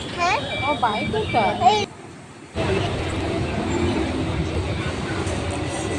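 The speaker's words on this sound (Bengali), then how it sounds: "এরপর আমরা আবার স্টেশনে এসে ট্রেনে উঠলাম ব্যাক করার জন্য" Passenger train rumbling steadily from inside a carriage, a continuous broadband roar that follows a short drop in level; a person speaks over it at the start.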